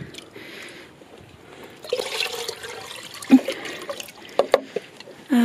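Water poured from a bucket onto moist allotment soil around a weed, a soft, fairly quiet splashing trickle that builds from the middle of the moment with a few louder gurgles and a final surge.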